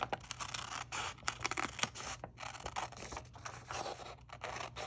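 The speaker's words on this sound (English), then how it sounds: "The other thing that you can do is you can cut this piece out." Scissors snipping through paper to cut out a template piece for a Halloween candy bar box, a quick close run of crisp cuts and rustling scrapes, quiet and without talk.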